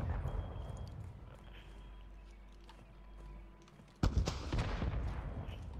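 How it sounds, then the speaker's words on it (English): Gunfire in an online shooter game heard as scattered distant shots, then a sudden loud close burst of rapid shots that keeps crackling to the end. "People shooting back here."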